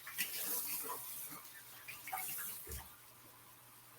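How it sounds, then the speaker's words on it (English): Water runs from a kitchen tap while dishes are rinsed under it, a soft steady splashing and hiss with faint clinks, fairly quiet throughout. "I'm just going to rinse these"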